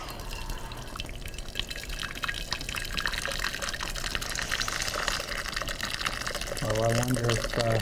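Hot soup pours into a soup tureen at a Hawaii farm feast, a steady liquid gush under background noise, with a person's voice briefly heard near the end.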